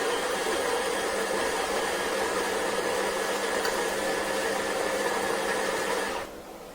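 Neretva 2-in-1 stainless burr espresso grinder running steadily on coffee beans, a loud continuous whirring hum that holds evenly for about six seconds before cutting off abruptly.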